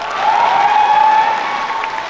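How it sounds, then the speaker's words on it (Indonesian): Audience applause at a Miss Mega Bintang Jawa Barat 2024 pageant event, a broad hiss of clapping from the crowd under a steady sustained musical tone, fairly loud and even throughout. "Tepuk tangan."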